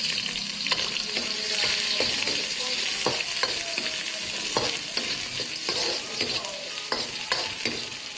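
Garlic and onion fry in a pan beside wild eel meant for cooking, a steady loud sizzle throughout with regular scraping strokes of stirring and no talk.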